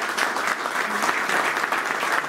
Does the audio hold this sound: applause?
yes